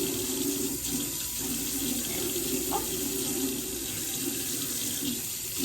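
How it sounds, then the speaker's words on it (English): Cold water runs steadily from a bathroom tap to rinse aloe vera off a face, a continuous close splashing stream with no talk over it. "Now it's time to rinse off this aloe vera, and I'm going to use cold water."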